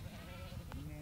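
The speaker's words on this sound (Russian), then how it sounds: "Молодой фермер разводит тушинскую породу овец" Tushin breed sheep at a pasture bleat once, a short close call rising over a steady low rumble of background noise.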